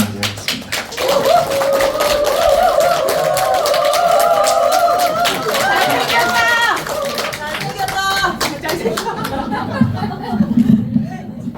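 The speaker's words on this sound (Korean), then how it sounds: "자, 어쨌든 우리 복효근 시인을 큰 박수로 맞이하겠습니다." An audience claps in a lecture hall to welcome the poet Bok Hyo-geun, dense continuous applause mixed with chatter and light laughter that thins out toward the end.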